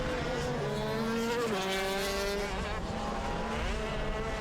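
KZ2 racing karts at a national sprint championship final, engines droning steadily at high revs with pitch rising and falling through the gears and corners, loud and continuous.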